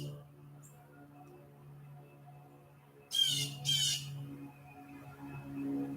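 From trees near a porch, an unidentified bird gives two loud, harsh squawking calls in quick succession, close and clear above a steady low hum, followed by fainter chirps.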